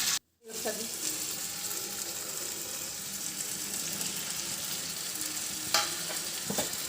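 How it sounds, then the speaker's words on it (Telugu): A spoon stirs pre-cooked broad bean pieces into a mixed vegetable curry with tomato and brinjal in a pan, producing a steady close sizzle and scraping that run without pause after a brief silence at the start. "మనం ముందుగా ఉడికించి తీసుకున్న చిక్కుడుకాయ ముక్కలు కూడా వేసి కలుపుదాం"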